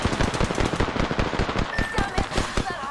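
Heavy rapid gunfire in Red Dead Redemption 2, a continuous rattle of close shots stacking into fast bursts, with voices talking over the shooting.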